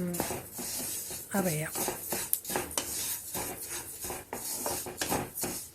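Flax seeds roasting in a pan give scattered small pops and crackles among close stirring and scraping, with a voice speaking briefly over them.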